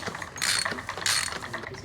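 A ratchet wrench turns a thread-locked bolt during a Lynskey Helix Pro bicycle build with Shimano Ultegra Di2, giving two short, close bursts of quick clicking pawl ticks separated by a brief pause.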